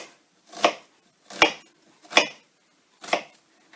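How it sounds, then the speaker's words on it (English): A kitchen knife chops a diced onion on a cutting board: four firm, evenly spaced thuds about a second apart, close and distinct, with nothing else heard. "and then you can just chop it. It just makes the onion pieces slightly smaller."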